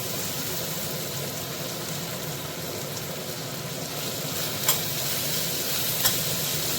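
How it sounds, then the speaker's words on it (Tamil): Onions sautéing in a pan for spicy Tamil-style chicken gravy with curry leaves, a continuous soft sizzle with faint stirring scrapes and two small clinks of the utensil. "இந்த வெங்காயம் வந்து கொஞ்சம் கோல்டன் ப்ரௌன் ஆகணும், அது வரைக்கும் வதக்கிக்கோங்க"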